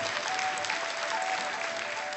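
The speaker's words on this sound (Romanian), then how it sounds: "Haideți încă o dată să-i aplaudăm pe acești frumoși copii" Audience applauding a children's folk dance performance in the main hall of a national philharmonic, with a steady, dense wash of clapping that stays loud and even throughout.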